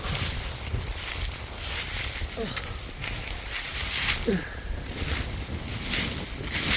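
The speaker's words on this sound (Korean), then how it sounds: "오늘 바람이 엄청나게 불어요." Strong, gusty autumn wind on a mountain during a mushroom-foraging hike buffets the microphone as a steady, loud, low roar with swelling gusts, and an indistinct voice is heard faintly.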